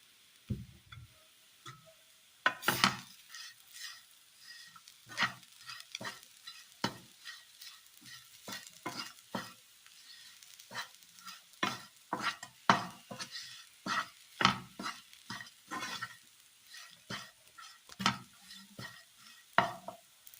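Fried fish pieces are stirred into masala in a pan, giving repeated scraping strokes of a spoon against metal at an irregular pace, close by, over a faint low sizzle, with no voices.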